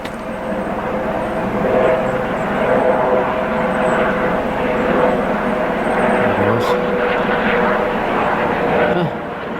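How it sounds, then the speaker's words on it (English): A steady low engine drone with a throbbing rotor pulse hangs overhead for the whole stretch, fairly loud and constant, with a voice speaking over it. "Helicopter over there. Not far from me."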